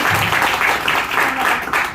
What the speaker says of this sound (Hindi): आप एक बार जोरदार तालियां बजाएं